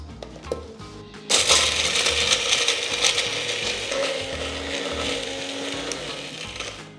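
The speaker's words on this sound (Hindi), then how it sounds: "and now it's time to blend" A blender whirs up chili, turmeric and salt for homemade cheese powder, with a few clicks and knocks before the motor cuts in loudly, then a steady grinding roar with rattling to the end.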